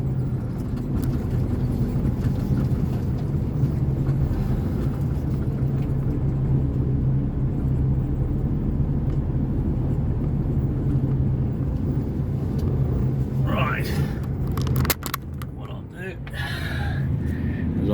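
Mercedes prime mover truck maneuvering to swing around and hook up a trailer, a steady low diesel engine rumble throughout, close and continuous, with a brief clatter near the end.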